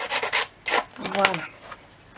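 Dried glue being filed off a craft album page with a metal file, giving a few short raspy rubbing strokes, close and moderately loud, with brief pauses between them.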